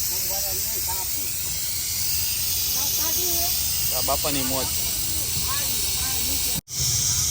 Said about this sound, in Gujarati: બાપાએ કુકર ઉતારી લીધું અને સીટી વાગા વાગ કરે